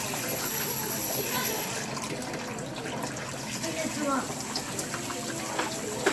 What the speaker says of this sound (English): I like to do it with hot water. So run some water.